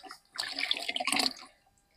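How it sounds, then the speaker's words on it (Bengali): Water splashes onto the soil at the base of a newly planted grape vine in one short pour. It is soft and close, with no talk. "দুজন মিলে জল দিই"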